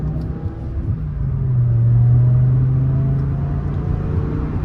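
BMW E60 M5 engine rumbling from inside the car while driving through a tunnel, a steady low drone that swells briefly as the revs climb, then settles back to an even cruise.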